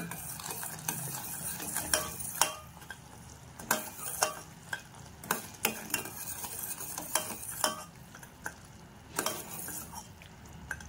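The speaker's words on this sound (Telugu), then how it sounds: "మాడిపోకుండా ఇట్లా మనం కలుపుతూ ఉండాలండి" Coconut laddu syrup of jaggery and cardamom powder being stirred in a pan, with repeated metallic scrapes and knocks of a spoon at an irregular pace over a quiet bubbling sizzle.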